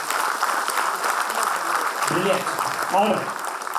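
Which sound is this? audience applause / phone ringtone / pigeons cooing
audience applause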